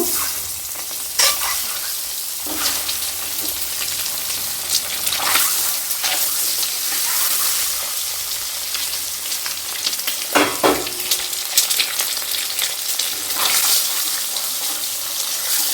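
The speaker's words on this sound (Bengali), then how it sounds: "আমি এবার ডিমগুলো দিয়ে দিচ্ছি কড়াইতে ভাজার জন্য" Duck eggs frying in hot oil in a kadai, a constant close sizzle with intermittent stirring and spatula scrapes, steady throughout with no voices.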